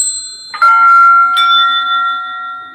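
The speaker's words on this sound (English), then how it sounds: "A bunch of bells with some random values." Synthesized bells with random values played in Sonic Pi, two bright electronic chimes struck about a second apart, each ringing on with clear sustained tones, loud and alone.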